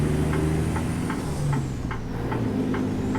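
Steady low diesel drone of a Western Star truck engine in American Truck Simulator, idling and running with harmonic rumble, joined by a regular ticking turn signal; no voices.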